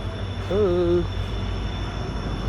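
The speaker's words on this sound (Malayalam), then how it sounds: "അങ്ങനെ നമ്മൾ ട്രെയിൻ വന്നിരിക്കുകയാണ്." A train rolls into a station with a low steady rumble, and a brief wavering squeal of wheels rises over it partway through.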